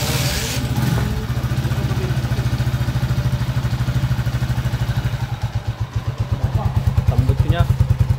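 A motorcycle engine with a leak at its underside idles up close with a steady, rapid chugging pulse and a faint mechanical ticking over it.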